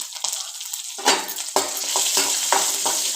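Onions, garlic and ginger fry in hot oil for a mutton curry, building into a loud close hiss broken by bursts of spatter and stirring.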